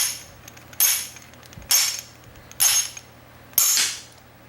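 A locking wheel nut is driven with a hammer into a 12-point socket until it pops free: four loud, sharp metallic bangs spaced roughly a second apart, each with a short ringing decay, close by.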